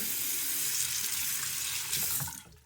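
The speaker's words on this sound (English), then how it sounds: "you just rinse it off, let it dry, and then put it away" Tap water runs steadily over hair clippers as they are rinsed, a close, continuous hiss and splash that cuts off at the end.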